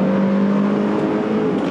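A first-generation NA Mazda MX-5 with a 6,500 RPM redline revs hard under load, a loud, steady, buzzy engine drone heard from inside the car, with no voices.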